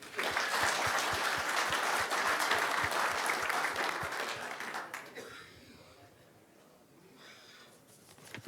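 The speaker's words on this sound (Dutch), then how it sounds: "Applaus voor deze." Applause from an audience at a local council election debate in Kollum, a full dense burst of clapping for about five seconds that then thins out to scattered claps and quiet room noise.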